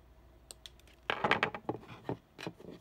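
Small snips and clicks of jewelry wire being cut while making earrings, a quick cluster of sharp, close ticks and taps with brief pauses between them.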